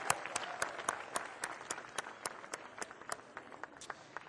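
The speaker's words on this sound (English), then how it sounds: "let's give a big round of applause to the students in our 5 high schools." Audience applause at a holiday tree lighting meeting in Glendale, a steady wash of clapping with distinct individual claps popping through, moderately distant and fading slightly toward the end.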